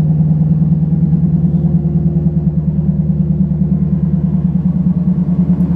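A 2010 Lexus IS F engine idles close up through an aftermarket exhaust with a deep, throaty burble, steady and rhythmic with a low pulsing rumble and no talking.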